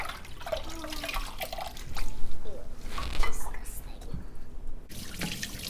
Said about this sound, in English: Next I'll rinse the periwinkle. Add some salt and then rinse it out.